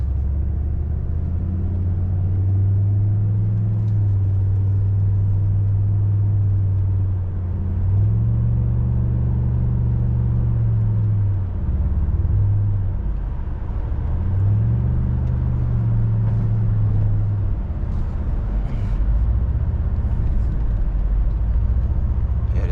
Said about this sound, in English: Smooth car, man. It ride good, it sound good.